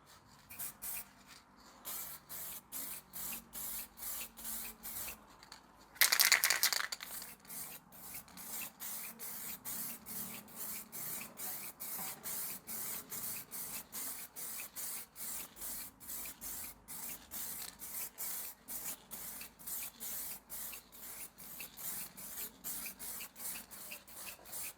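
Aerosol clear coat sprayed onto a restored Ford Fiesta headlight in one loud hiss of about a second, set among a steady run of rapid, regular mechanical ticking and light background noise.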